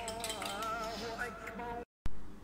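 A spoon stirs an onion hair mask with aloe vera and coconut oil in a bowl, giving a soft run of scraping and light clinks for about two seconds, then a short gap and one sharper clink.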